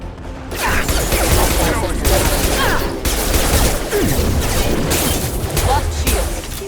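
Sustained game gunfire in Mass Effect 2 Legendary Edition, loud dense bursts of rapid shots and impacts crackling continuously across the whole stretch with brief dips between volleys.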